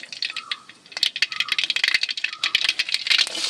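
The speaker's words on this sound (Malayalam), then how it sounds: "കടുക് പൊട്ടി വന്നിട്ടുണ്ട്" Mustard seeds crackle and pop in hot oil while cooking a pappadam curry, a dense run of sharp close clicks and spits with a few brief hisses, steady and lively throughout.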